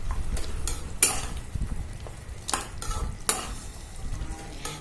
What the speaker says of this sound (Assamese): ভালকে ভাজি লব আৰু মাংসটো ভজাৰ ওপৰতেই কথা।